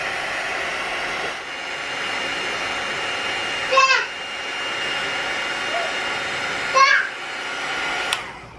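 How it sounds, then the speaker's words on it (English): A heat tool blows hot air over an alcohol ink card, a steady whooshing drone near the mic that runs through the clip with brief interruptions, while a small animal makes a few short sounds. "I'll take my heat tool."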